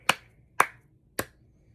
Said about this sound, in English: I would ask them what is a beat, and then I would clap a beat